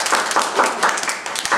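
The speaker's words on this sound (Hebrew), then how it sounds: "במחיאות כפיים כולם" Children in an audience at a magic show clap together, a dense, steady patter of many hands with slight surges in rhythm, fairly close and continuous for the whole moment.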